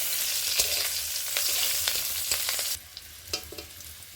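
A small amount of chopped onion fries in a pan for a jackfruit seed chachchori with sesame paste, crackling in a loud, dense sizzle that drops to a quieter fry with scattered popping and stirring clicks.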